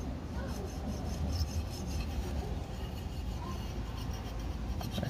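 Steady, close rasping scrubbing as the water pump mating surface of a Yamaha YZ dirt bike is cleaned, a continuous rubbing texture with no pauses.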